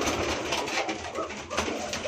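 Pigeons coo softly in a loft where squabs are raised, low throaty calls repeating through a faint, busy background.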